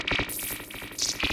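A Serum synth noise oscillator with key tracking turned up bubbles and warbles in rapid, uneven pulses, a dense fizzy electronic texture with no voices.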